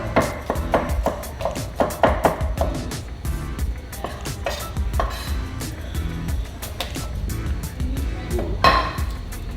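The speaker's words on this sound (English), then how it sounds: "we're gonna take about 1, 2, 3, 4, 5, 6, 7, 8, 9, 10, about 12 garlic cloves. And we're just gonna start chopping these up" A knife chops about a dozen garlic cloves on a cutting board, with quick uneven close knocks and taps coming in bursts and pauses, with no talk over them.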